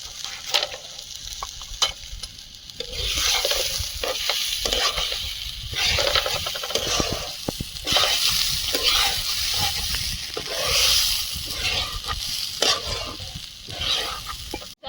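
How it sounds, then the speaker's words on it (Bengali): Broken wheat (dalia) frying in a pan with dried chilli, cumin and ginger gives a steady sizzle, while a utensil scrapes and stirs it again and again for the whole stretch. No one speaks. "ডালিয়াটা ভালোভাবে ভেজে নিয়েছি ঝুরঝুরে ভাব চলে এসছে"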